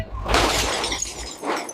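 A loud crash of a truck hitting an auto-rickshaw, with shattering and breaking debris, a heavy burst lasting about a second before tapering, followed by a smaller clattering burst.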